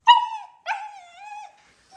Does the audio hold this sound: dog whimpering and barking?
yes